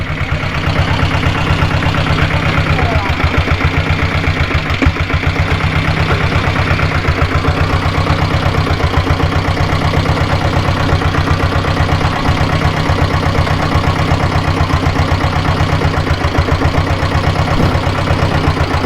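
A diesel Bullet motorcycle engine idles close by, a low even throb with a regular mechanical beat holding for the whole stretch, no talking.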